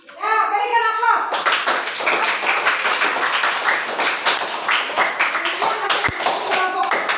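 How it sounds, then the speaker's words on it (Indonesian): Students in a classroom break into loud, sustained applause for a student group, dense clapping filling several seconds with a voice briefly heard at the start. "Ya, berikan aplaus."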